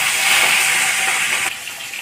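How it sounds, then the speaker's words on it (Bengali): Rohu fish pieces fry in a pan with a loud, steady sizzling hiss that runs unbroken and drops a little near the end. "মাছগুলোকে আমি ভেজে নিই"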